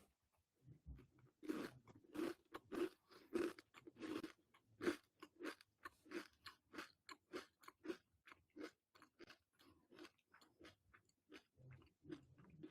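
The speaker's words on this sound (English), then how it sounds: "Yeah, Triscuit ASMR." Crisp, close crunching of a Triscuit cracker topped with jam, a steady run of bites and chews with no talking over them.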